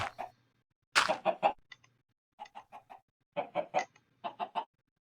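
Video game chickens cluck in short bursts of clipped, repeated calls, loud and close, with brief pauses between groups and no talk over them.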